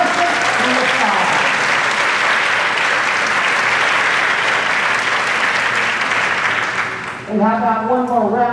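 A crowd at a dairy festival pageant in a school auditorium gives loud, sustained applause for a contestant's parents, the dense clapping holding steady before fading as a voice starts speaking over the tail end.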